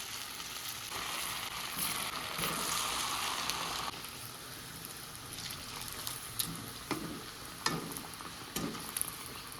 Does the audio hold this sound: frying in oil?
yes